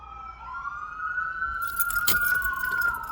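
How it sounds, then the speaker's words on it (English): Emergency vehicle sirens wail and sweep in pitch along a main street, moderately loud and steady, with a brief jangling clatter nearby partway through. "Can you hear the sirens?"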